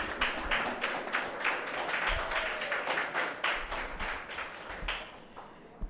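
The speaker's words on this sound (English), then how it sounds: "Let's have another round of applause for the teams." Applause for the teams at a government ministry debate in Jamaica, a crowd clapping in uneven bursts with distinct sharp hand claps, heard from a moderate distance and tapering off toward the end.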